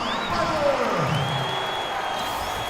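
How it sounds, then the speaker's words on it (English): Crowd cheering in a basketball video game arena, a steady roar of spectators with whistle-like tones rising over it, under faint commentary. "This crowd just stunned at the sight of that one."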